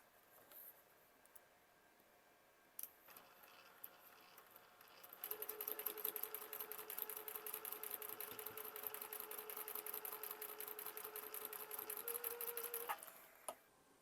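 A sewing machine stitches quilt block quadrants together with a quarter-inch seam, running in one continuous rapid rhythmic burst for about eight seconds after a few quiet preparatory clicks, fairly close but soft.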